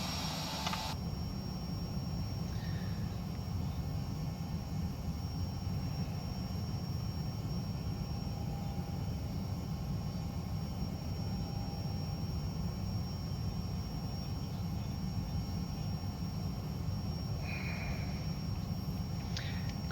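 Continuous broadband roar of a Vision Jet engine in the X-Plane 11 flight simulator during a climb, steady and unchanging with brief faint clicks over it, no voices.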